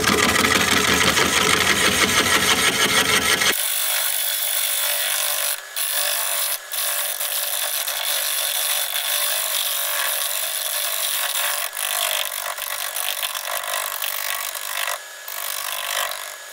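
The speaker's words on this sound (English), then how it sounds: "we'll try my negative rake scraper on the sides here" Wood lathe turning a honeysuckle root with a negative rake scraper: a loud, steady broadband scraping and rubbing that runs throughout, with a few brief dips.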